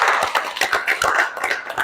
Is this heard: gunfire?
no